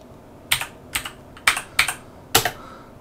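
Keys clack on a ZX Spectrum computer keyboard in five distinct, sharp presses spaced unevenly across a few seconds, close and clear with no talking.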